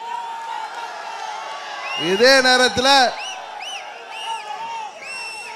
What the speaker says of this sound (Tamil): ஆரவாரம் செய்கிறீர்கள்